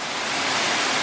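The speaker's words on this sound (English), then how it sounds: "I've arrived at Guarawa Falls, the final waterfall of the day" Guarawa Falls on Queensland's Coomera Circuit gives a loud, steady, broadband roar of falling water with no breaks. No voices.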